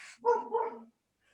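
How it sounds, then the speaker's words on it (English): A dog barks twice in quick succession from another room during early evening, fairly faint and distant, with a short high yip just before and silence after. "Apologies if you can hear like my dog barking in the background"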